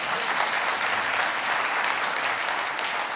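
An audience at an entrepreneurship concert and awards ceremony claps steadily for about three seconds, a dense continuous applause without voices.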